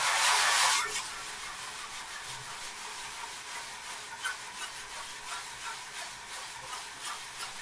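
Steady, fairly quiet rasping of a soft sanding block rubbing across wood end grain, a brief louder hiss at the start, then even strokes continuing at low level.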